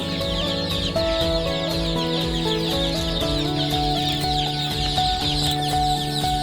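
Chickens cluck continuously, several birds at once, with steady chatter and occasional sharper calls, nearby and with no talking.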